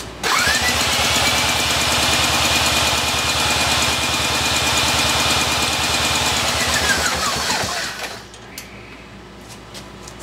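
A 1963 Evinrude 5.5 hp outboard motor cranks steadily on its electric starter for about eight seconds during a compression test, a loud, even mechanical churn that stops abruptly, leaving faint clicks and a quiet background.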